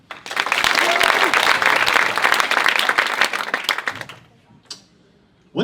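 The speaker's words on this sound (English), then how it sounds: "Clap it up." Comedy show audience bursts into loud, dense applause that holds for about three seconds, then thins into scattered claps and fades to near quiet, with a voice briefly heard at the end.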